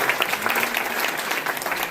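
Audience at a live storytelling show gives an emcee a vigorous round of applause, a thick, steady wash of many hands clapping close and loud without a break.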